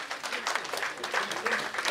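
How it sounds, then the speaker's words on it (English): A crowd at a CA Day celebration and honouring of senior members applauds, a short burst of many hands clapping close and steady, with a voice speaking over it. "A round of applause for CA Mohammed Khalilullah U."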